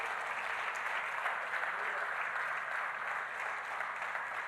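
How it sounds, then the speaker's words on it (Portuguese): A church congregation applauds: a steady, even wash of many hands clapping throughout, moderately loud and sustained, with faint voices underneath. "Você pode aplaudir a Deus por isso?"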